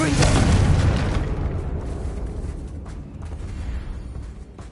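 A Confringo spell explosion in the video game Hogwarts Legacy: a loud, close booming blast at the start that rolls off into a long, fading rumble, with game voices around it.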